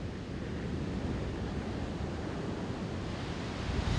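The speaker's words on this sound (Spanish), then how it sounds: "donde rompe la ola en Playa Maule" Sea waves break on the shore at Playa Maule, forming a steady, dense wash of surf that holds at an even, moderate level from start to end, with wind-like noise over it.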